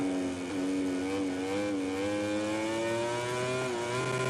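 A racing motorcycle engine in the video game MotoGP 20 screams at high revs, steady and loud, its pitch rising and dipping slightly as it holds speed without a break.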